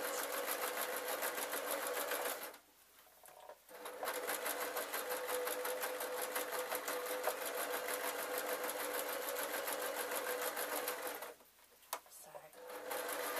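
A sewing machine runs steadily as it rolls a hem on pillowcase fabric, a fast, even mechanical whir close by that stops twice briefly before restarting.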